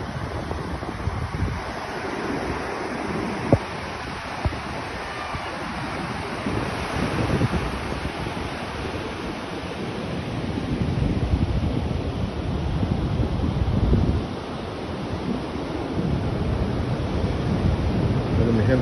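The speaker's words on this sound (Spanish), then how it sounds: "Ahí disfrutando de las olas del mar." Ocean waves roll onto the beach at Rosarito, Baja California, after rain, a steady broadband wash of surf with swelling surges and gusty wind noise on the microphone throughout, no talk.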